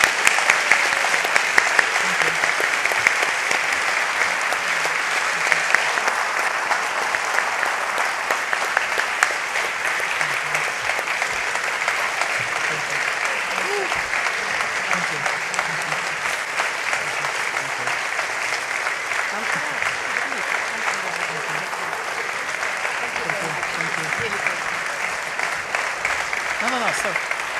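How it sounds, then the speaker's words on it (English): An audience at a lecture on the Russian war in Ukraine gives the speaker long, sustained applause, a thick, even clatter lasting nearly half a minute, with scattered voices faintly audible beneath it. "give you an amazing applause"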